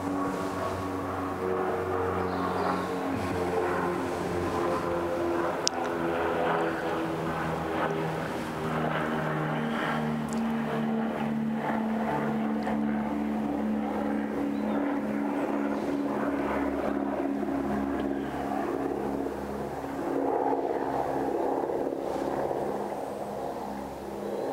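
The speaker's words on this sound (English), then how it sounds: "we've got a lot of noise from this aircraft" A propeller aircraft flying over Epping Forest in October, a steady low droning engine hum that persists for the whole stretch, moderately loud overhead with no talk.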